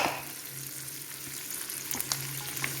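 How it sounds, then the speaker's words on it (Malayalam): Beef for pickle with slit bird's eye chillies being stirred as it fries dry and crisp in a pan, a steady loud sizzle with occasional scrapes and clinks of the stirring, close and without talk. "നല്ല ക്രിസ്പിയായി വരുന്നോടം വരെ നമുക്ക് ഇളക്കി ഇതൊന്ന് ഉണക്കണം"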